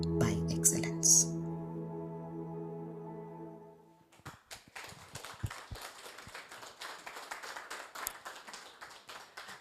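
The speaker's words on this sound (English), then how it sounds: "This special clap is by members of the Alpha Bravo team." Members of a company team clap in a brisk, uneven rhythm, moderately near, after a few seconds of tonal music; quiet voices murmur beneath the claps.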